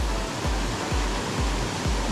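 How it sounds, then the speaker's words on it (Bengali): Snowmelt water running down a mountainside in the hills of North Bengal on the road to Darjeeling, a steady broadband rush with low rhythmic thumps, heard close by. "বরফ গলা জল, সুন্দর ঝর্ণা ঠিক নয় কিন্তু ঝর্ণারই মতো"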